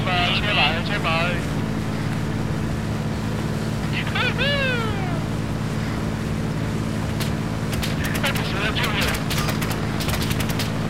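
Boat engine running, a steady low drone with constant harmonic hum underneath, while shouting voices and sharp bursts of effects cut in over it.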